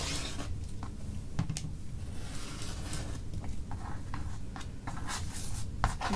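Quilting fabric half-square triangles being trimmed with a cutter against a ruler, giving a close, steady scraping and rubbing texture with occasional soft clicks and ticks and no talking.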